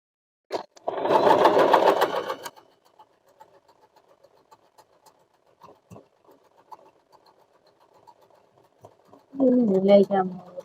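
An Usha Janome Allure DLX sewing machine runs in a short close burst of rapid stitching, falls quiet amid faint taps, then starts another brief whirring run at the end.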